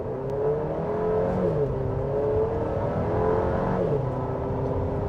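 A 2025 GMC Acadia Denali AWD pulls away hard from a stop, its engine droning and rising steadily under full throttle, loud and continuous from inside the cabin.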